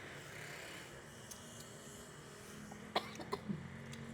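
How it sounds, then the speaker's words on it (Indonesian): A few sharp coughs burst out near the end while eating spicy chicken feet, close and abrupt, after a stretch of quiet background hum. "Baru bilang meresap udah batuk."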